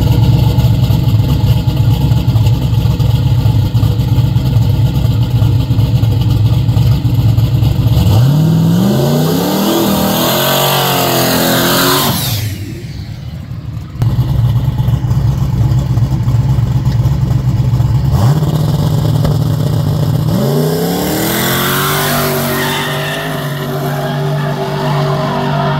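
A race car engine revving hard at close range, loud and steady for several seconds at a time. Two rising throttle sweeps are split by a brief drop to a lower idle, with no voices over it.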